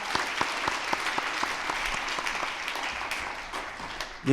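A church congregation applauds ministry volunteers standing at a Sunday afternoon service, sustained clapping from many hands filling the room, with a few louder individual claps standing out.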